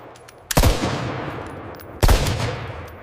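A .45 ACP handgun is test-fired at a factory test range toward a target 25 yards away. There are two sharp, loud shots about a second and a half apart, each followed by a brief decaying echo.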